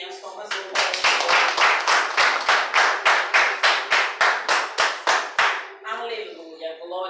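Church congregation clapping in unison, a steady, even beat of about seventeen loud claps over several seconds, with voices mixed in and a voice carrying on alone after the clapping stops.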